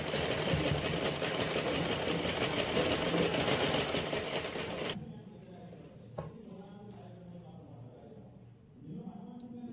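A sewing machine runs steadily for about five seconds while stitching a folded fabric piece for a sleeveless kids' frock, loud and continuous, then stops, leaving quiet room sound and faint handling.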